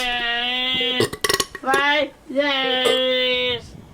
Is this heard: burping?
yes